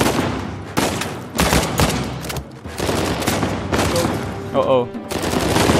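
Bursts of gunfire in the video game Uncharted 4, loud and repeated in several rapid volleys with short gaps, while a player talks and exclaims over the shooting.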